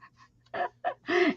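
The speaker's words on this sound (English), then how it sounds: "the rooster will go off sometimes" A smart speaker's alarm plays a rooster sound, a few short clucking bursts building to a louder final crow, fairly near with no talk over it.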